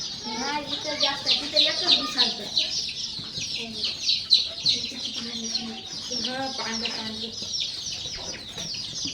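Chickens on a poultry farm with a brooding area cluck and squawk in overlapping bursts close by. The calls continue throughout at moderate loudness, with soft human voices underneath.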